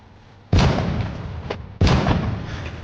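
Two loud, sharp gunshot-like blasts about a second apart, each with a long rumbling tail, fired from a gun in a comedy sketch set in a shop.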